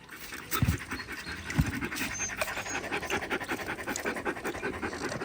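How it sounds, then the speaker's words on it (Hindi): Tired sled dogs pant heavily and continuously after a mushing run, rapid breathy huffs from several animals overlapping close by, with a couple of louder low thumps near the start. "ये देखो सारे हाँफ रहे हैं, थके हुए हैं,"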